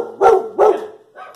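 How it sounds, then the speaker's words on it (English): A pet dog barks indoors at a bird, two loud close barks followed by a softer third yelp, alone without talk. "What are you barking at?"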